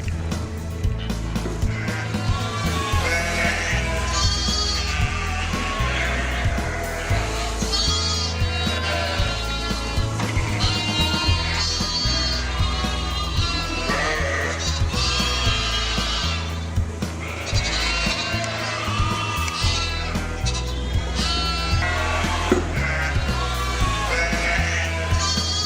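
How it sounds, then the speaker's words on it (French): Sheep and lambs bleat continuously in a flock, many overlapping calls near and far forming a dense, steady chorus. "on va aller voir les moutons et les petits agneaux"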